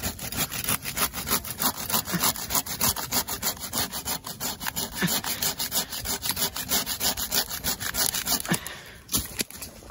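Bow saw cutting through a standing tree trunk while felling it, a steady, loud rasping back-and-forth stroke rhythm that continues close by and briefly stalls near the end.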